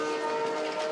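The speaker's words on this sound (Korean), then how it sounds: "이렇게 기차는 사람을 매단 채 일단 출발한다" Passenger train pulling out of a station in Sri Lanka with people hanging from its doors, a loud sustained tonal whistle or horn over steady rail rumble, with no talking.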